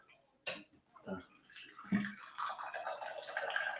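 Water pours into a vessel after a few sharp clinks of glass or dishes, then runs as a bright, continuous splashing stream close by.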